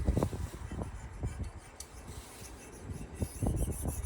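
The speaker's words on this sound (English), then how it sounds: "Try not to score anything. You just want to scrape it off" Scraper rubbing old gasket maker off a Chevy LS timing cover, a close, steady run of short rasping strokes with an irregular back-and-forth rhythm, no talking.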